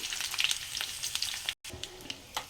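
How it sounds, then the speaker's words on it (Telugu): Dried red chillies, garlic and curry leaves frying in hot oil, a close, steady crackling sizzle with brief spits and a short silent gap partway through. "ఎండుమిర్చి అయితే మంచిగా ఫ్రై అయింది"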